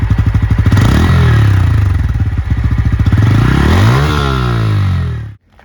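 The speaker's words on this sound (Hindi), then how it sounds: "इसकी एग्जॉस्ट की नोट आप सुन सकते हो।" A Bajaj Pulsar N160 motorcycle with an underbelly exhaust revs up twice, its loud, close, throaty burble rising in pitch and falling back before cutting off abruptly.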